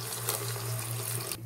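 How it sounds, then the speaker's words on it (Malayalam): Water poured into a pan of melted sugar while making semiya payasam, a steady close rushing stream with a low hum beneath that cuts off abruptly near the end. "ഇതിലേക്ക് കുറച്ച് വെള്ളം നമ്മൾ ചേർത്ത് കൊടുക്കുക"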